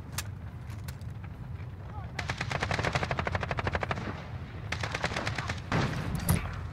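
Gunfire from a gun in a video game: a single shot, then a long rapid automatic burst and a second shorter burst over loud game noise, with a voice talking underneath.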